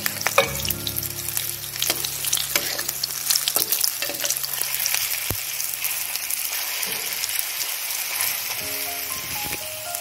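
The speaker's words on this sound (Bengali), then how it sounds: "এইভাবে আমি উল্টে উল্টে দু পিঠ লাল লাল করে ভেজে নেব।" Kofta balls for dahi kofta fry in ghee over medium heat and are turned over again and again. A steady, close sizzle runs throughout, broken by scattered scraping clicks of the utensil, with no talking.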